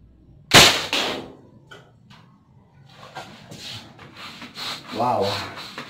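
A modded homemade AT-15 marble spud gun fires one sharp, loud pop, followed by scraping and handling noises and people talking nearby.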